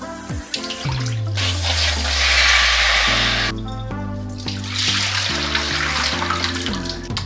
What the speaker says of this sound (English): we'll rinse our greens as well.